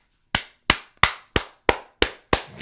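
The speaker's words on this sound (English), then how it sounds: "Give yourself a clap" Seven sharp, evenly spaced hand claps, crisp and close, each ringing briefly before the next, with nothing else around them.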